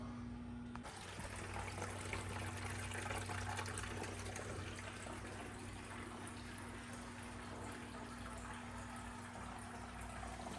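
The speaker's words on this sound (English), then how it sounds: "As you can hear, we're priming and filling up right now." A Sicce Whale 500 aquarium canister filter primes and fills with water, giving a continuous low hum under a steady wash of gurgling and trickling liquid.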